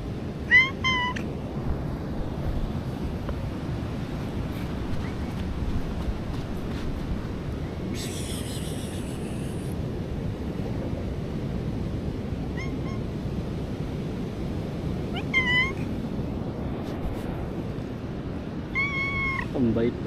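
A cat meows several times at intervals over a low, steady background rumble, with soft talking in between, at Laki Beach, Mariveles, Bataan, in the rainy season.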